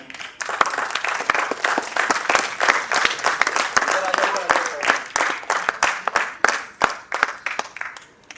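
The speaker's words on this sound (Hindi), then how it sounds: "तो आप लोग एक जोरदार ताली से स्वागत कीजिए" A crowd gathered at a saints' convention during the Simhastha Kumbh applauds to welcome a guest, with dense, loud clapping carrying on steadily throughout, with sharp individual claps standing out above the mass.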